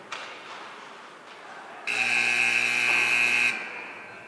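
A loud, flat electronic buzzer marks the end of a period at a basketball game, blaring for about a second and a half in a large echoing arena, then cutting off abruptly.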